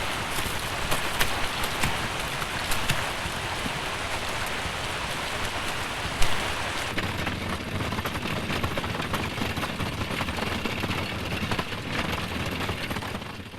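Steady, dense rain pours down in a bleak Béla Tarr film scene, a loud continuous hiss of drops on surfaces that thickens and deepens partway through, with no voices.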